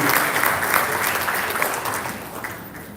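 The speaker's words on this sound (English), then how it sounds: "Round of applause, sir." Loud, dense applause from an audience at an awards night ceremony, steady clapping throughout that slowly eases in the final second.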